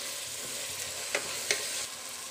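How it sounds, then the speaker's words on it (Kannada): Green peas frying in a pan with onion, tomato and mint make a soft, steady sizzle, with a couple of faint clicks from stirring on top. "ಇವಾಗ ನಾವು ಹಸಿ ಬಟಾಣಿ ಆ್ಯಡ್ ಮಾಡ್ಕೊಳ್ಳೋಣ"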